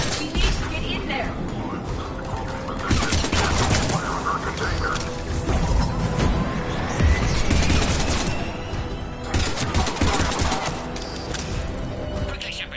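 Gunfire rattles at a besieged checkpoint in Mass Effect 3, dense and continuous over nearly thirteen seconds, mixed with loud battle noise and voices.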